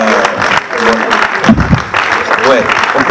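An audience applauds a performer at a Congolese music gathering, dense steady clapping near and loud, with voices talking over it.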